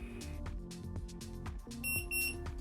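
High electronic alert beeps from a curling iron chirp a few times late in the clip, sounding over busy background music.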